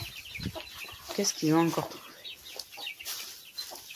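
Hens cluck and chicks peep nearby, with one louder squawk, while a person speaks briefly over the birds.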